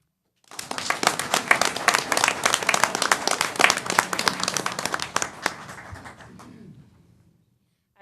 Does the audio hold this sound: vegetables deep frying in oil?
no